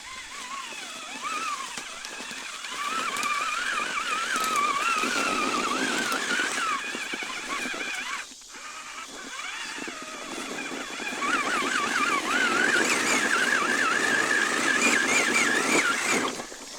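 Traxxas Summit RC truck in first gear with locked diffs straining up a loose dirt hill, its motor whining in wavering pitch under steady throttle, briefly cutting out midway before pushing on.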